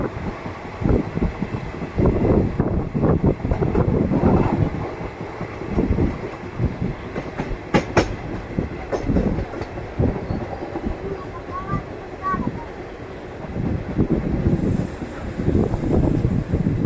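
A passenger train runs on rails between Mulloorkara and Wadakkanchery stations in Kerala, heard as a continuous rumble with rattling bursts mixed with gusty wind noise throughout.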